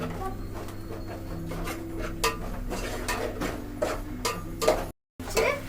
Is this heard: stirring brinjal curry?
yes